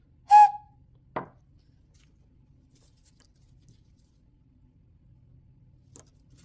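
A clay ocarina whistle sounds a short, bright tone once, followed by a sharp click and then near silence with a faint tap at the end.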